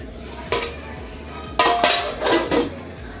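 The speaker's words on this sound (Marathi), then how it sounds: "झाकून ठेवूया." Metal lid set onto a cooking pot of dudhi halwa (bottle gourd pudding) in a home kitchen, a few sharp close clanks and clinks with softer rattles in between.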